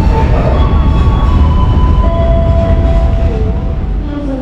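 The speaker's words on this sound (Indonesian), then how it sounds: "di depan saya ini detik-detik kedatangan kereta api Airlangga, rute Pasar Senen menuju ke Pasar Turi" An Airlangga economy-class passenger train on the Pasar Senen to Pasar Turi route pulls into the station, loud and close, with a heavy rumbling roll, steady wheel noise and long metallic brake squeals, no talking.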